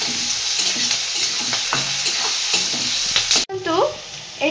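Sliced onions frying with sugar in a hot pan, a dense continuous sizzle broken by regular scraping stirs, a brief dropout near the end, then the sizzle resumes.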